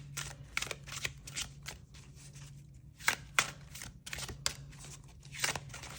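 Tarot cards shuffled by hand, soft close flicks and slides in short irregular bursts, quiet and without talk.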